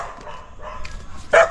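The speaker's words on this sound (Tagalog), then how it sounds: "Teka, nakakatakot itong mga aso dito." Dogs bark outdoors near an old hut in a rural yard, a few short yips and barks building to one loud, close bark at the end.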